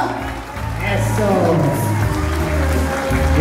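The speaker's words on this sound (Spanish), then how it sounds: "Un aplauso, damas y caballeros, para Paola." A crowd at a Mexican quinceañera party for Paola claps and cheers, steady applause with whoops building under a loud announcer's voice and party music.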